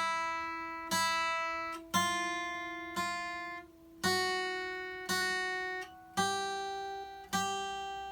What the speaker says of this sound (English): Okay, so the exercise sounds like this. I play each note twice.